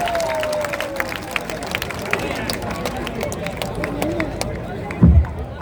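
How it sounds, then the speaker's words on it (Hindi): Crowd applauding a speaker at the Jan Suraaj founding convention, a steady, dense wash of clapping and crowd noise with a voice speaking over it and a brief thump near the end. "इनके लिए ताली बजाइए जोर से"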